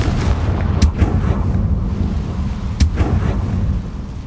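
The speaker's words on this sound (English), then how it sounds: "Confringo!" A Confringo fire spell explosion in Hogwarts Legacy, a deep rumbling boom with two sharp cracks and a sustained low roar that fades near the end, no talking.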